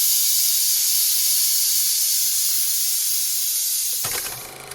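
Steam from a pressure cooker in a home kitchen hisses loudly and continuously at close range, then fades as clattering and other kitchen noises take over near the end.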